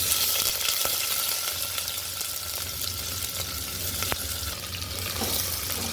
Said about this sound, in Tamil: இதெல்லாம் நல்லா பொரிஞ்சதுக்கப்புறம் கட் பண்ணி வச்சிருக்கிற வெங்காயத்தை சேர்த்துக்கிறேன்.